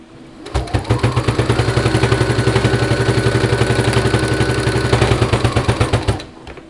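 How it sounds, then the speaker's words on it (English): A sewing machine stitches across fleece for a fringe vine, running forward and then back-stitching in a steady, loud, rapid mechanical rhythm for about five and a half seconds before stopping. "we're going to sew over that, back stitch over it, and then we're done sewing."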